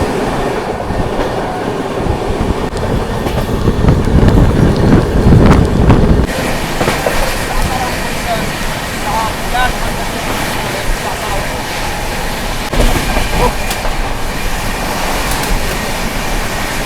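Indian Railways train 12329, the West Bengal Sampark Kranti, running on its tracks, recorded from on board. A steady loud rumble of wheels and carriage continues throughout, with heavier surges in the middle and no voices.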